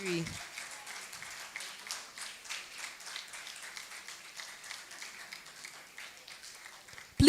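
Audience applause for an award winner at a postgraduate conference, steady moderate clapping sustained for about seven seconds, slightly distant, with a brief voice at the start.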